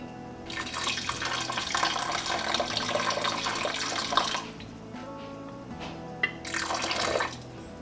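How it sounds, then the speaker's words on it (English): Tap water pouring into a claypot of rice for egg fried rice, a close steady splashing stream that stops, followed by a few drips, then a second short pour, with no talking. "So let's add more water."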